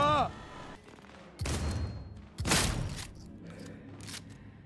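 Sniper rifle fire in the video game Cyberpunk 2077: two loud, sharp shots about a second apart, each with a decaying tail, followed by fainter bursts, with a voice talking briefly.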